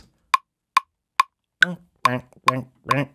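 A metronome clicks steadily at 140 BPM, seven evenly spaced sharp ticks; from the fourth click on, a voice talks between them.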